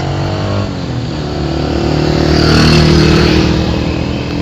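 Cars and motorcycles pass along a busy evening street in Taxila, Pakistan, engines swelling and fading as vehicles rush by close at hand in a steady loud stream of traffic.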